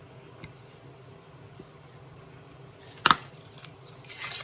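A single quick snip of scissors cutting paper or cardstock for a gnome candy box, loud and brief against a quiet room, followed by faint handling rustles.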